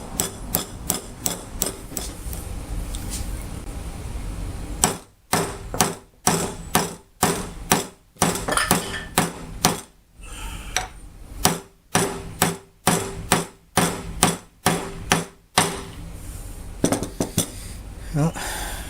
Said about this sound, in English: I'm going to drive this head down just a little farther.